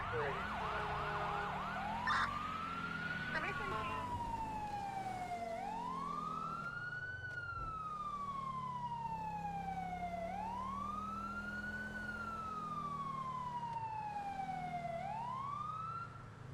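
A police car siren responding code 3 in a GTA V LSPDFR patrol cycles through slow, rising and falling wails over a low engine drone.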